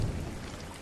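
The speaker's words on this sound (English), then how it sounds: "The only sound was the rain." Steady rain falling during a quiet rainy-day wait at a bus stop, a continuous low wash of noise with a slight rumble, moderately soft and alone with no voices.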